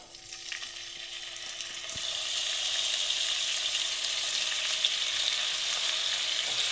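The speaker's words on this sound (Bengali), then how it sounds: "দেখো বন্ধুরা, তেলটা প্রায় গরম হয়ে গেছে। আমি না মাছগুলো দিয়ে দিচ্ছি।" Koi fish lowered into hot oil burst into a loud, steady sizzle that swells after a quieter start and holds as a bright, continuous frying hiss close by.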